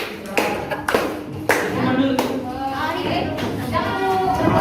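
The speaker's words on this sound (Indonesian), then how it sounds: "berikan aplaus" A small classroom audience claps, with a handful of sharp, uneven hand claps and taps at the start that give way to a murmur of talking voices.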